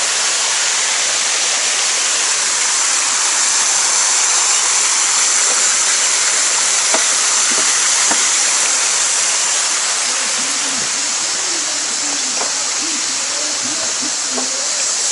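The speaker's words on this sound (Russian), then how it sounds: "Мини-водопад." Small waterfall in Alanya, Turkey, splashing with a steady broadband rush that stays constant and close throughout, with a few faint higher tones flickering over the flowing water.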